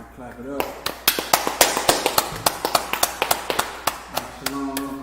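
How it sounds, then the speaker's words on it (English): Rhythmic group clapping at a Thursday scripture class in Charlotte, NC, a steady beat of sharp claps about twice per second, close and loud, with voices heard at the start and end. "clap it up"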